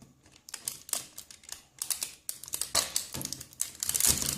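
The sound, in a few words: cutting open a French army ration package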